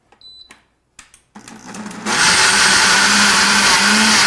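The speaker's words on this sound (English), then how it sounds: "I've got the cashews in this blender and I'm gonna turn it on to high" Cashews go into a blender switched to high. A few clicks and a brief rattle lead into a loud steady motor roar with the nuts whirring and grinding, sustained and close.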